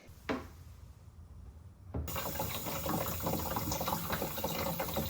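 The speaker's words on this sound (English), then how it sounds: "After filling the tank with water" Water pours from a tap into the tank of a Fanttik steam cleaner, a steady close rushing fill that starts abruptly after a brief quiet moment and a small knock.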